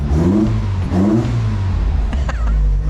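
The engine of a Nissan Sunny truck (Datsun 1200 ute) on a dyno runs at a high idle of about 1500 rpm. It is a loud, close, steady drone with a couple of brief revving swells.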